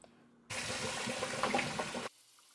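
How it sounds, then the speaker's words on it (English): Tap water runs for about a second and a half as boiled beef short ribs are rinsed under it at a kitchen sink, a steady close splashing gush that starts and stops abruptly. "I'm taking out each individual piece and giving it a quick rinse under the water"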